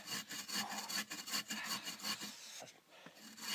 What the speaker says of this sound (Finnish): ottaa saha ja antaa saha laulaa